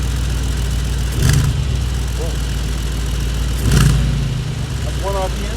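A 2023 Mercedes-AMG G63 SUV engine idles steadily in Sport Plus mode, then revs up briefly twice in quick bursts before settling back to a low idle.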